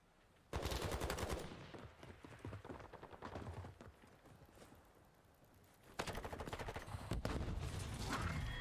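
Rapid automatic gunfire in a Call of Duty League match, loud bursts of machine-gun fire that pause briefly and then return in dense, sustained volleys.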